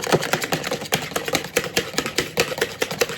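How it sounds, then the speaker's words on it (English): Cookie dough ingredients whisked in a bowl give a brisk, even run of clicking strokes, roughly three or four taps a second, close and fairly loud with no talk over them. "Whisk it all together."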